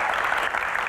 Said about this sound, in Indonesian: tepuk tangan dong buat panelis kita yang luar biasa, Mbak Tejo.